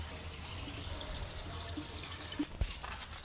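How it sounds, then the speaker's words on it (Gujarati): Water runs into a tank at a farm, a faint, continuous rushing stream with a few small splashes near the end. "પાણી તો પીવા માટે જરૂર છે એટલે પાણી ભરવું પડે"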